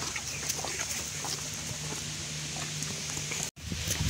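Horses' hooves clip-clop steadily at feeding time, close and fairly loud, with hens clucking and birds calling around them; no one speaks.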